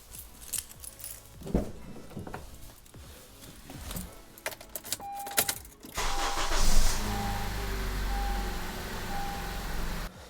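A car engine cranks and catches after a jump start from a DeWalt portable power pack, keys jangling and clicks first, then the motor turns over and settles into a steady close idle hum.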